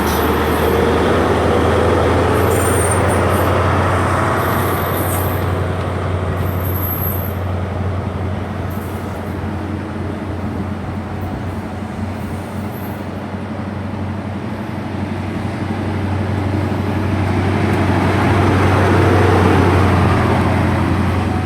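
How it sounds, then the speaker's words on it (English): A Class 43 HST, power car 43-186 leading, pulls out at Severn Tunnel Junction on a service to Taunton. It gives a loud, steady diesel engine roar and rumble with a sustained low drone that swells again toward the end, with no talking. "departing out the 1824 service to Taunton, 43-186 at the front"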